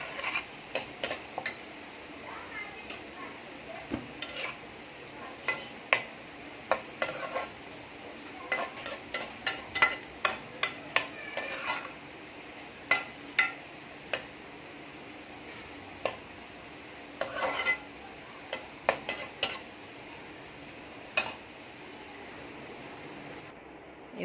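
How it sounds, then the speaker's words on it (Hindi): Onions fry in oil for haleem with a faint background sizzle, while repeated sharp clicks and scrapes of a spoon stirring against the pot tick along irregularly. "ब्राउन हो रही हैं ये प्याज"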